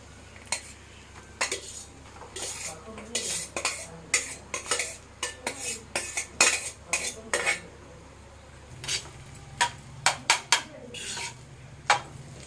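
Street-style egg fried rice made with basmati rice, stirred and fried in a pan over high flame: repeated sharp metal clanks of a spatula against the pan in an irregular rhythm, with a faint sizzle underneath.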